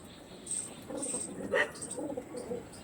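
Tournament-quality Andhra racing pigeons coo close by in low, throaty, overlapping calls, one burst standing out midway, with no speech.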